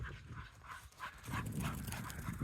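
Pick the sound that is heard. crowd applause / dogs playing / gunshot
dogs playing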